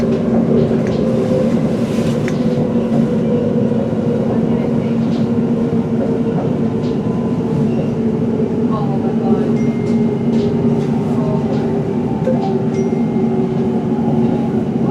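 A train running on a London line near Seven Kings and Goodmayes, heard from inside as a steady loud rumble with low mechanical hum and occasional squeals, under intermittent talk.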